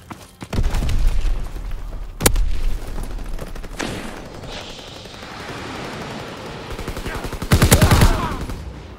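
In a World War 2 video game capture-the-flag match, a grenade bursts with a heavy boom amid loud, close rattling bursts of gunfire, with sharp single shots and rapid automatic volleys recurring.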